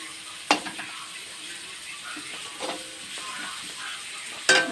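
Fish curry cooking in oil left over from frying fish, with curry leaves, a steady close sizzle broken by a few sharp scrapes and clinks of a spoon against the pan, no talking.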